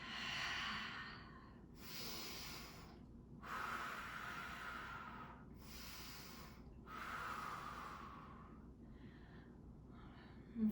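Deep, slow breathing during a yoga session, with about five long, hushed breaths in and out in steady rhythm, close and soft, with no talking over them.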